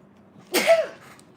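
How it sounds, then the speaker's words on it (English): A single sharp sneeze set off by flowers, close and fairly loud, a quick breathy burst that fades out within a second. "Some of these flowers are making me sneeze."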